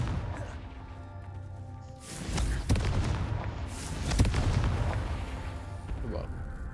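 Confringo spell blasts in the video game Hogwarts Legacy burst out as a couple of loud, booming explosions with crackling debris tails, rolling over a busy game soundscape while a voice speaks at times.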